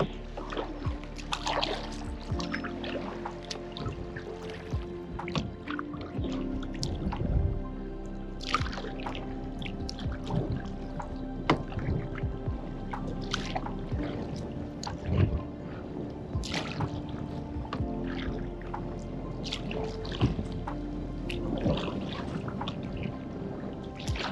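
An Ascend hybrid canoe is paddled on a river, with soft repeated splashes, drips and trickles as the blade dips and pulls. Small knocks against the hull come and go over a steady low rumble, and no one speaks.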